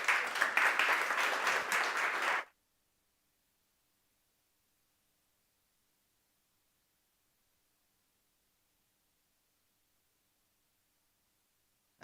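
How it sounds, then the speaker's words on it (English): Audience applause at a gaming hackathon event, steady clapping for about two and a half seconds that then cuts off abruptly into near silence. "Let's give her a round of applause."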